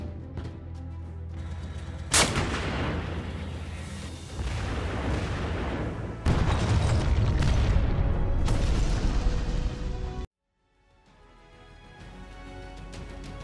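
A self-propelled artillery system fires in loud, heavy booms, several blasts with rumbling roar and echo between them, then a sudden cut to a quieter stretch.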